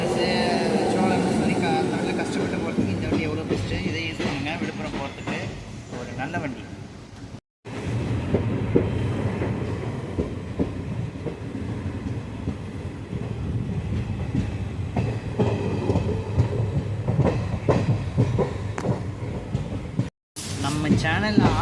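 A passenger express train from Tiruvannamalai to Tambaram rumbles steadily along the rails, a continuous loud roar with faint rhythmic clatter, heard from inside or close by, with voices talking underneath.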